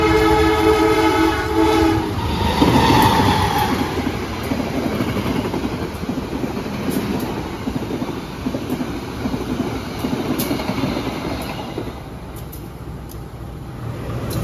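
Bawonkarta passenger train passing straight through on track 2 at an Indonesian station, a horn blast at the start followed by a loud, sustained rumble and rattle of wagons rushing past, fading slightly toward the end.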